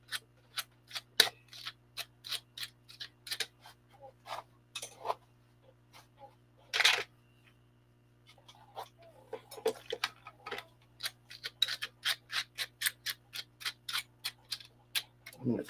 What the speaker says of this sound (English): I'm going to trim off a few with scissors too.